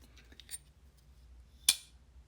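A Custom Knife Factory CKF Snafu 2.0 integral pocketknife snaps shut with a single sharp, bright metallic clink near the end, following a few faint small clicks in a quiet room.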